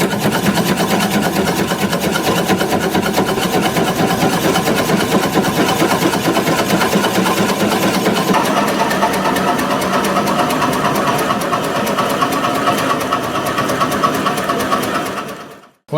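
A wood lathe spinning at 250 RPM drives a 2.5-inch drill bit into a workpiece. It gives a loud, steady mechanical whir with a fine rattling texture for about fifteen seconds, then cuts off abruptly, with no talk over it.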